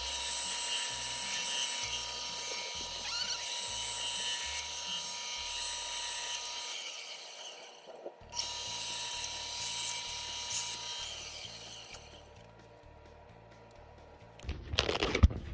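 A lathe cuts a tornado popper bass-fishing bait blank into sections, giving a steady, close machine whine with bursts of cutting noise over a pulsing low rhythm, ending in a loud scraping clatter.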